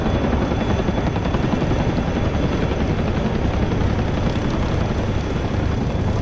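A Chinook helicopter in the DCS flight simulator drones steadily with a dense, loud rotor and engine roar that stays constant throughout, with no voices over it.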